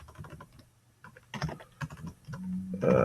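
Short bursts of close keystrokes on a computer keyboard during Salesforce Apex programming, irregular clicks with a faint hum near the end.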